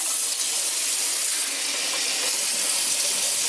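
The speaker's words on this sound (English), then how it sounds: "Let me turn the water on, you'll see." Water runs steadily from a leaking Delta Berkley faucet, a continuous bright hiss and splash at constant loudness, close up with no talk.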